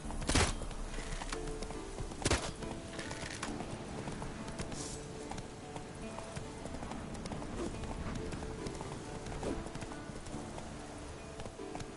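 Geralt's horse Roach gallops in The Witcher 3, a steady, continuous run of clip-clop hoofbeats set against game ambience, with a couple of sharper knocks early on.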